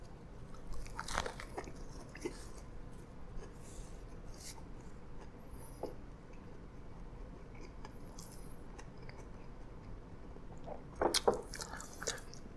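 Close, crisp crunching and chewing of a MrBeast Burger chicken sandwich with a toasted bun, pickles and lettuce, with a few scattered bites and a louder burst of crunches near the end.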